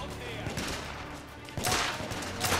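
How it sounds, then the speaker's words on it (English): Gunfire in the video game The Order: 1886, a rapid fusillade of shots with sharp cracks and a louder burst near the end, dense and continuous, with faint voices mixed in. "I shot his hat off again, that's cool."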